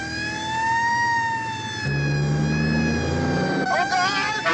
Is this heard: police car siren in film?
yes